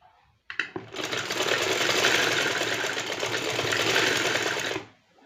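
A sewing machine stitches a kurti in one continuous run of steady, fast mechanical whirring lasting several seconds, then slows and stops. It is close and loud, with no talking.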